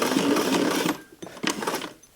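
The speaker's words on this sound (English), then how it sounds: "I'm going to sew right over the top of what I did at the very beginning" A sewing machine stitching over a patch runs in a steady, fast mechanical whir, then stops and gives a few short bursts of stitching, close and clear with no talk.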